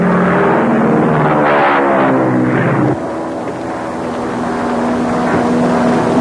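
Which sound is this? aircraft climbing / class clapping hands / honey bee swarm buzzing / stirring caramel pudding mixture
aircraft climbing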